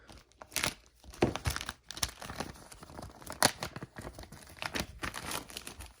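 Plastic packaging for 1/24-scale RC crawler side steps is cut open and unwrapped, giving close, irregular bursts of crinkling, tearing and snipping.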